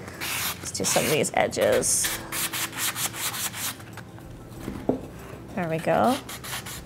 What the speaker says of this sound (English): I'm using a 500 grit fine sandpaper.